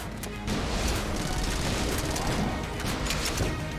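Rapid, dense gunfire and blasts from the roguelike game Enter the Gungeon during a boss fight, a loud, continuous barrage of overlapping shots with no break, alone.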